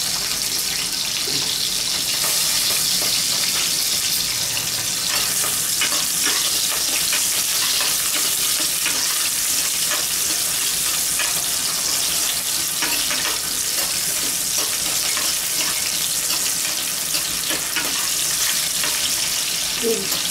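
Onions and green chillies fry in oil for biryani, giving a dense, continuous crackling sizzle that stays loud and even throughout, without any talking.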